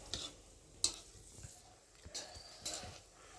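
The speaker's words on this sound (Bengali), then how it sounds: "আর এখন আমি শুকনো লঙ্কাগুলোকে একটু ভালো করে ভেজে নেব।" Dried red chillies fry in a home kitchen pan, giving a soft sizzle with a few clicks and scrapes of stirring, quiet and close.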